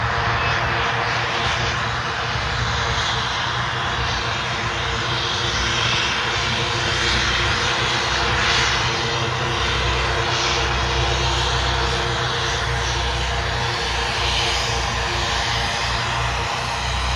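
A Metroliner's engines drone steadily as the aircraft taxis at Jandakot Airport, a loud, continuous roar that holds an even level throughout without talk.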